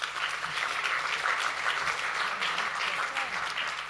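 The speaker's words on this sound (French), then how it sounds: "On peut l'applaudir." An audience at a stage event breaks into sustained applause, a dense, even wash of clapping lasting the full few seconds with no break.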